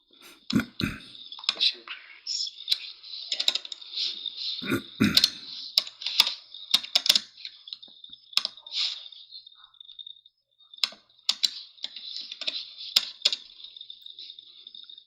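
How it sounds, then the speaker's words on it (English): Clicky computer keyboard typing in irregular bursts of sharp keystrokes, fairly close, with a steady high hiss underneath and a few louder thumps, continuing for about fifteen seconds. "Hit the keyboard harder, my friend."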